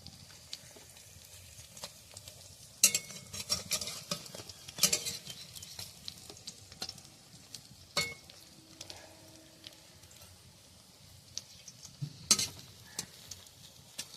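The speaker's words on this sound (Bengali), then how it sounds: "এই যে বেশ সিদ্ধ হয়েছে আর পিছনটা ভাজাও হয়ে গেছে ভালো। উল্টে দিচ্ছি।" Helencha greens fritters fry in a pan at home, a faint, low sizzle broken by scattered clicks and scrapes of a utensil as they are turned.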